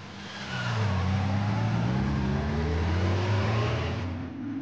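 Police motorcycles of the French gendarmerie accelerate hard in pursuit of a speeding car, a loud, close engine roar rising steadily in pitch before easing off at the end.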